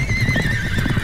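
A horse whinnies loudly in a single drawn-out neigh in South Park: The Stick of Truth, with faint hoof clatter underneath.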